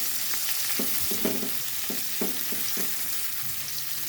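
Onions and carrots fry in a pan, a steady soft sizzle with a few light stirring knocks scattered through it, close and fairly quiet.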